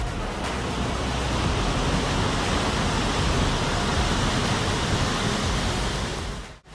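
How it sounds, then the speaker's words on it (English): The Gloria Pata waterfall in Tingo Maria National Park, about 25 to 30 meters high, roars as a dense, constant rush of falling water close by, with no voices over it. "This waterfall that is the Gloria Pata measures approximately 25 to 30 meters high"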